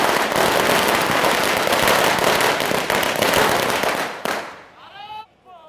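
Firecrackers burst in rapid, dense succession at a celebration in Chauhata, a loud continuous crackle lasting several seconds before thinning out to a few scattered pops and quiet.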